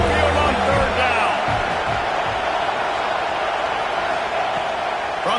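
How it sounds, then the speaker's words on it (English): Roaring stadium crowd at an Alabama Crimson Tide home game in a college football video game, a loud, steady wall of cheering and whooping that fills the whole stretch on third down. "The Tide crowd rolling noise down on the Saban Field on third down."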